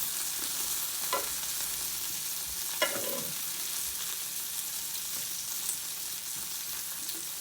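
Vegetables roast in a hot pan for a spring recipe, giving a constant hissing sizzle with a few faint knocks and scrapes from stirring.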